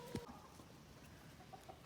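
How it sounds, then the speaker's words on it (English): A rooster at a chicken rodeo gives a short, loud crowing burst near the start, followed by quieter farmyard murmur and faint distant clucks. "As y'all can tell, he's been crowing throughout the whole thing."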